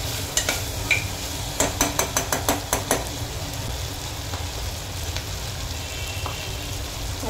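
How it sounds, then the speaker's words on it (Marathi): Elephant foot yam sautéing in a spiced tempering in a pan, a steady loud sizzle with a quick run of spatula scrapes and clinks early on, then continuous frying alone. "व्यवस्थित परतून घ्यायचं आहे सुरण"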